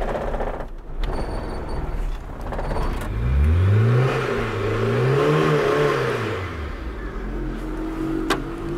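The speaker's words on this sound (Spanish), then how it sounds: "Ahí tenemos el auto andando." A 1998 Chevy car with a fault that makes it stall is cranked and started: a few clicks and a rough start give way to a running engine that revs up and down in rising and falling swells before settling.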